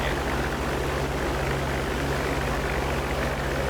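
A P-47D-30 Thunderbolt's radial piston engine and propeller in DCS World, a steady loud drone with low harmonic hum and broad roar, continuous and close for the whole stretch with no talk.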